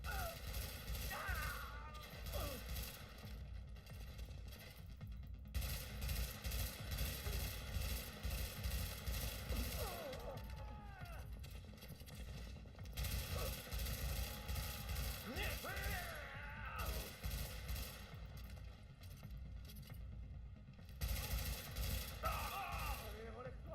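Gunfire from The Division video game crackles in dense, rapid bursts, fairly faint and distant throughout, with brief pauses between volleys and occasional voices cutting in.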